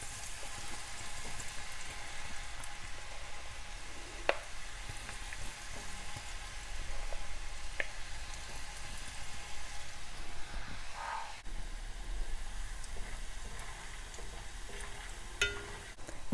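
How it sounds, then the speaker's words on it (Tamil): Masala-coated peanuts deep-fry in hot oil in a kadai, giving a steady, continuous sizzle and bubbling hiss with occasional faint clicks of stirring, close by and without talk. "மசாலா கடலையை இதில் ஃப்ரை பண்ணி எடுத்துக்கலாம்."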